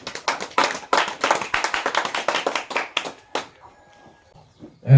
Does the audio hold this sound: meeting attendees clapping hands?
yes